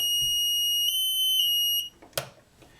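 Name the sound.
power fail alarm sounding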